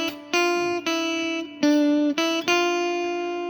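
On guitar, the second riff of a song sounds as about six clear, ringing single notes in a steady rhythm, each sustained, played solo and near.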